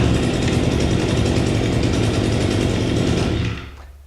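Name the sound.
Echo GT22GES string trimmer engine starting and running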